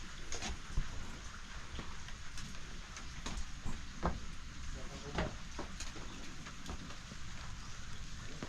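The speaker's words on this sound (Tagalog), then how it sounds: "Ulan naman ang kalaban natin ngayon." Steady rain falling outdoors at a swimming pool demolition site, a dense continuous patter with scattered louder drops, with voices speaking over it.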